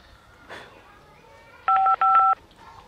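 Two short beeps of phone keypad dialing tones sound close by, preceded by a brief faint noise in an otherwise quiet room.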